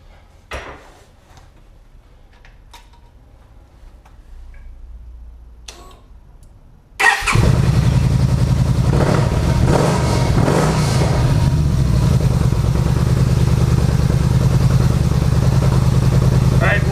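Yamaha V Star 950 motorcycle fitted with a Cobra PowerFlo intake cranks over and fires up after a few quiet clicks, then settles into a loud, continuous rumbling idle close by.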